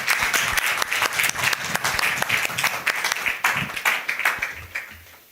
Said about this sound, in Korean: 우리 큰 박수로 격려해 주시기 바랍니다.